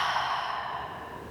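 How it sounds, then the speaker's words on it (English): During a vinyasa yoga flow, a single long, breathy exhale is released through the mouth, close and steady for over a second, with no talk over it. "Exhale through the mouth."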